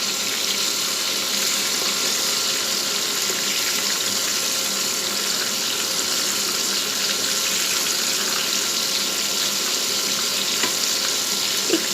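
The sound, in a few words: chicken frying in a pan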